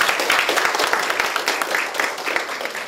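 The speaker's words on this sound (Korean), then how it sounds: "우리 이민래 부사님께 큰 박수 드립니다" Dense, continuous clapping from the audience at a panel discussion on restoring an ecological stream, a loud, even burst of applause lasting a few seconds.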